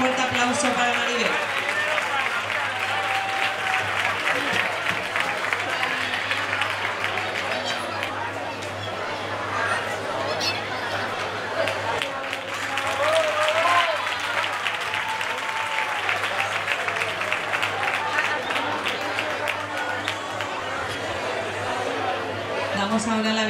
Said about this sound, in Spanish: Un fuerte aplauso para Maribel